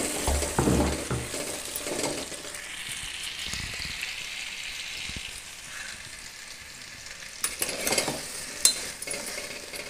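Pumpkin halwa gets stirred in a pan, with a spoon scraping and clicking against the metal over a soft steady sizzle and a few sharper knocks near the end.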